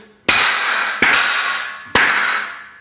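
Three hard, ringing hammer blows drive a TI chip into a piece of wood, each sharp strike followed by a decaying metallic ring, spaced under a second apart and close up.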